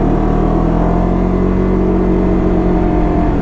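Can-Am Ryker 600 three-wheeler with a CVT cruising on a back road at barely any throttle, its engine making a loud, steady mid-pitched drone with a whirring edge.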